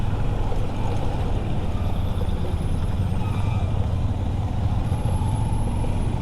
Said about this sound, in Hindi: आप कभी भी आएंगे आपको यहाँ पे ट्रैफिक मिलेगी ही मिलेगी